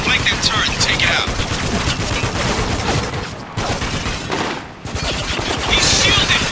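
Mounted .50 cal machine gun turret firing in the shooter game Spec Ops: The Line, a dense, loud stream of heavy rapid shots with short pauses, with voices shouting over the gunfire.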